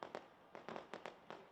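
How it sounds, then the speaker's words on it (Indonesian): New Year fireworks burst over Sky Tower in Auckland, a run of about six sharp, distant cracks and pops arriving in quick pairs against a quiet background. "Puncak menara diterangi dengan berbagai warna saat kembang api meledak di langit malam."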